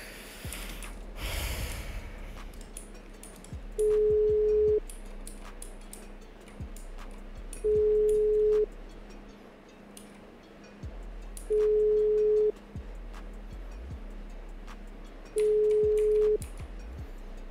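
A phone rings unanswered inside a video game: four long, steady tones come at even intervals of about four seconds over low background noise, with no talking.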